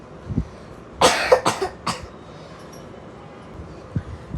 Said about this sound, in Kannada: ಕೆಮ್ಮು ಇದೆಯಾ ಕೆಮ್ಮು